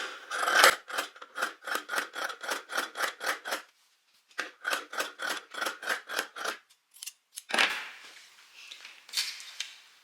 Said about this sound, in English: And now you can cut off the excess seam allowance.